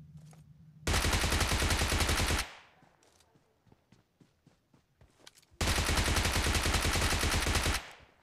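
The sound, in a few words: gunfire in video game PUBG Mobile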